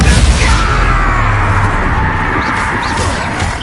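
Bombarda spell blast in the Hogwarts Legacy video game, a loud booming burst that starts strong and fades into a long rumbling, crackling tail with a high whistling tone over it.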